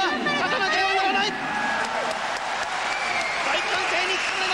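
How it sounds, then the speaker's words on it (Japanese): Big arena crowd at a K-1 kickboxing bout at the Okinawa Convention Center roars steadily after a knockdown, a dense continuous wall of cheering with a commentator's voice talking over it. "大歓声に包まれました"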